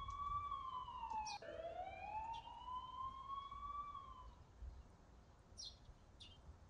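A video game ambulance siren wails, sweeping down and up in pitch, steady and fairly loud, with faint chirps near the end and no talking.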